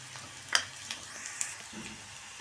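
Lentil dosa mixture with turmeric and salt sautéing in a pan, giving a faint, steady sizzle with a few soft stirring scrapes close by.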